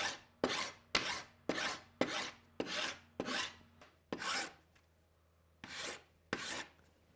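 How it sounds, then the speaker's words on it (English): A rasp and file shape a hardwood arrow shaft in evenly paced, close strokes, about a dozen gritty scrapes in a steady rhythm with a short pause near the end. "now I've got it down pretty close with the rasp and file"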